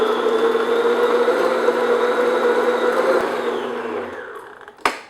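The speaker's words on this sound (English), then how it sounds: "And then I'm going to beat this on medium-high speed, probably 2-3 minutes." An electric mixer creams fruit cake batter at medium-high speed with a loud, steady whirring hum close by, which slows near the end and stops with a sharp clunk.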